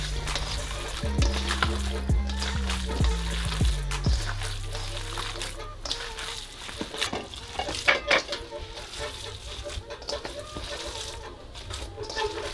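Poutine sauce powder and cheese worked into homemade sausage meat, wet squelching and scraping in bursts with clunks against the bowl, close by, while someone talks over it.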